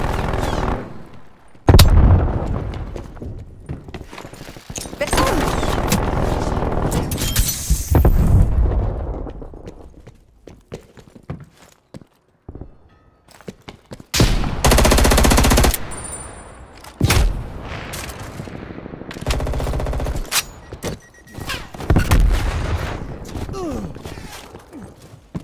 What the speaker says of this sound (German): Feindliches Geschütz aktiv.